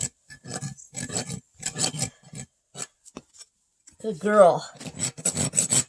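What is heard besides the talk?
rasping and bevelling a hoof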